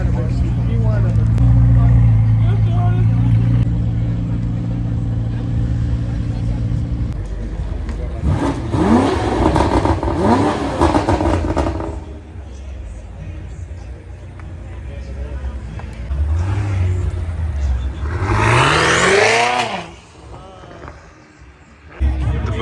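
A Pagani Huayra leaving a modified car meet revs hard in two loud bursts that rise and fall, with engine rumble in between. People chatter and talk nearby throughout.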